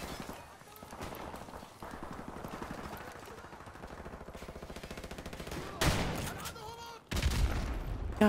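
Gunfire from a shotgun in the video game Modern Warfare Remastered, part of a multiplayer match: rapid repeated shots with a dense battle mix, then two louder, heavier blasts near the end.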